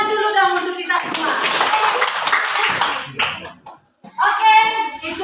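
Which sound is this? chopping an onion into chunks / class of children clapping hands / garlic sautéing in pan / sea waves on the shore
class of children clapping hands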